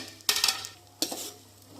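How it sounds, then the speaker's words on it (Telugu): Nuts fry in ghee in a kadai while a spoon scrapes and clatters against the metal in two quick bursts, with a soft sizzle lingering between them, close and without talk. "ఫస్ట్ కడాయిలో కొంచెం నెయ్యి పోసుకొని అందులో బాగా నట్స్ని వేయించుకోవాలి."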